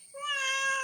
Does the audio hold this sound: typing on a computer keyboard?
no